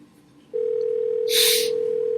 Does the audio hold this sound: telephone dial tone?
yes